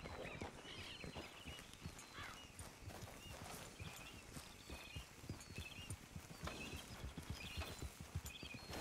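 Horse hooves clip-clopping in a steady walking rhythm while riding along a beach in Red Dead Redemption 2, continuous and fairly close, with ambient game background underneath.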